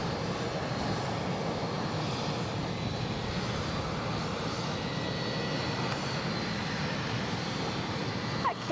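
KLM airliner at Edinburgh airport, its engines giving a steady, loud broadband roar that holds constant throughout, with no talking over it.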